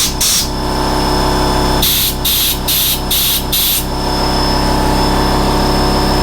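Compressed air blasting dirt out of the screws on a Makita 3711 saw, one short hissing burst then a quick run of four more, over a steady engine-like drone.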